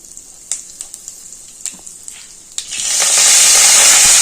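Cumin, urad dal and asafoetida go into hot oil for a tempering. A few sharp pops and crackles come first, then a loud, steady sizzle takes over and holds for the rest of the moment.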